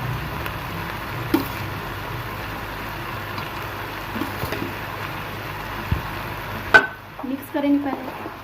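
Fried rice with chicken and vegetables is stirred and mixed in a hot pan, a steady sizzling hiss running throughout, with a couple of scraping knocks and a brief murmur of speech near the end.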